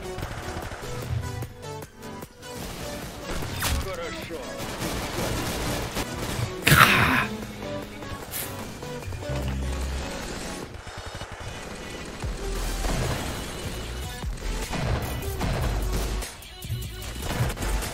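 Gunfire in the Roblox shooter Arsenal, scattered shots and bursts mixed into busy game sound at a moderate level, with one sharper loud crack partway through.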